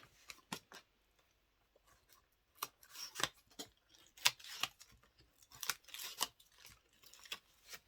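Scissors snip through scrapbook paper in a series of crisp, close cuts, some isolated and some in quick clusters, with quiet pauses between and no talk.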